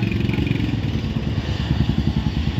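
Royal Enfield motorcycles rumble on a ride near Mccluskiganj, Ranchi, Jharkhand, their engines idling and revving close by in a steady low thump with a continuous drone, and no voices.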